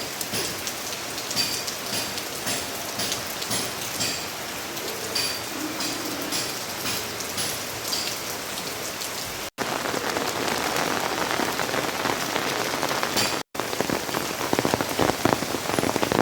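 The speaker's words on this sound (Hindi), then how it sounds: "तो फिर से बहुत तेज़ हो गई है बारिश।" Heavy monsoon rain pours down during a flood threat at Haridwar, a dense continuous hiss of drops hitting surfaces, loud and steady throughout with two brief cuts.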